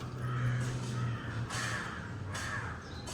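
A crow caws several times nearby, harsh calls in short bursts with brief pauses between, fairly faint, with no one speaking.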